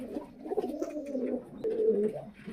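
Pigeons coo softly in a nearby loft with nesting birds and chicks, a short run of low, rolling murmurs that rises slightly toward the end.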